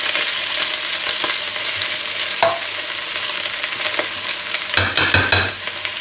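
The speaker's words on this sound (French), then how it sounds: "On mélange bien." Onions for French onion soup sizzle and fry in a pan while being stirred, with steady crackling and scraping strokes close by, growing busier and louder toward the end.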